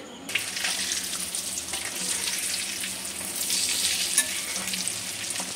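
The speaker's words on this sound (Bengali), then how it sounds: "এরকম লাল লাল করে ভেজে নিতে হবে" Chicken mince chops deep frying in oil, a steady dense sizzle and crackle close by, running evenly throughout with no talking.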